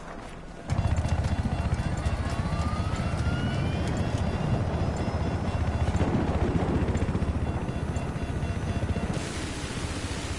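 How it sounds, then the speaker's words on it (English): A steady, loud helicopter rotor drone in Battlefield 4, a video game, with a rhythmic chop running throughout, starting abruptly after a brief quieter moment. "I'm gonna take his helicopter, actually."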